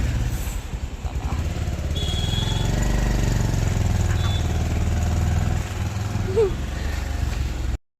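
A motorcycle engine running steadily with a low, continuous drone as the bike is ridden on a hot, sunny day, loud and close throughout before cutting off abruptly at the end.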